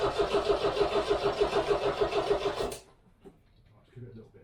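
A 1969 MGB engine cranks with a fast, even rhythmic churn for under three seconds, then stops without catching, leaving near silence and a faint voice.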